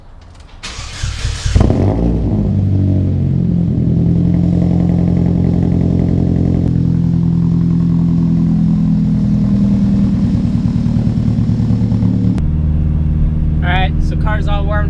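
A Nissan Skyline R with a freshly built engine fires up with a brief, sharp burst, then idles loud and close with a steady rumble before revving and pulling away; a voice speaks briefly near the end.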